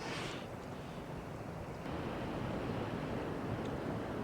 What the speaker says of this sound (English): you fairly hear the waves on a boat